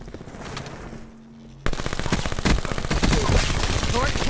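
Rapid automatic gunfire in Call of Duty Black Ops 4 bursts in suddenly after a quieter stretch of ambient game sound, then rattles on loudly and continuously with sharp, close shots.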